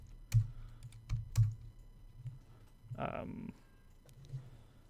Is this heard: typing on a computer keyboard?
yes